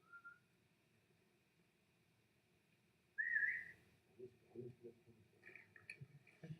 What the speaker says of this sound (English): Because I heard a whistle.